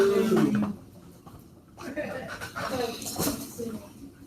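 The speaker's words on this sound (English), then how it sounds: "Oh, no, that's a dog." A dog pants and whimpers close by in short breathy bursts, with a high whine at the start, while people talk and react in the room.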